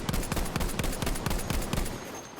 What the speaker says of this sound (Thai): โว้มีคนยิงสวนมาด้วย